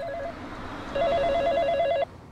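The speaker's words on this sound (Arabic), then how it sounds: "اصبر جوالي دق" A mobile phone rings with a short electronic chirp, then a steady warbling ringtone that sounds clearly for about a second before cutting off, with no voices over it.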